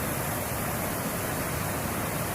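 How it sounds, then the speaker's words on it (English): Amicalola waterfall on a trail in the Appalachian mountains pours as a steady, broad rushing roar, even and unbroken, heard alone with no voices. "Amicalola waterfall."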